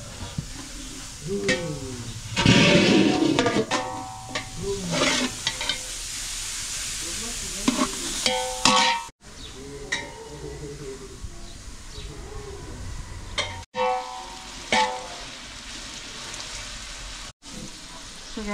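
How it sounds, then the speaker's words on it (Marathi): Mutton pieces dry-roast in masala in a pot while being stirred, giving steady close sizzling with scraping stirs, and birds coo in the background as a person talks. "आता हे सुक्क करतोय आम्ही मसाल्यामधलं."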